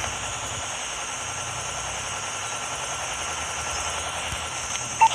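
A care package helicopter hovers steadily in the Call of Duty Mobile video game, a constant droning rotor and engine hum at moderate distance with no speech.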